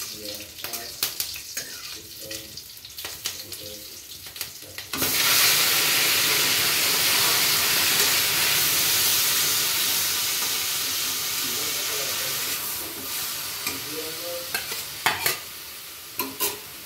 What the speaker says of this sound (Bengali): 2 চামচ তেল দেবো। ফোড়নটা দিয়ে দেবো।